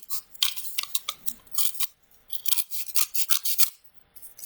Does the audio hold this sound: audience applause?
no